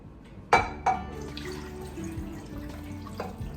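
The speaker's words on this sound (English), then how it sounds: "I'm going to pour this over my roast." Liquid sauce poured over a roast in a slow cooker, heard as a couple of sharp splashes and clinks followed by a quiet trickling pour.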